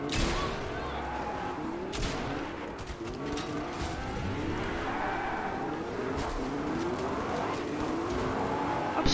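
A Lamborghini engine in a video game drones and revs continuously, with shifting pitch sweeps as the car speeds along, mixed with scattered game effects and distant pops.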